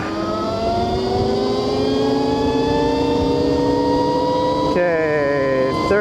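A 72-volt electric dirt bike (e-moto) accelerating hard, a loud continuous whine rising steadily in pitch for about five seconds, then briefly cutting and shifting near the end, heard up close without talk.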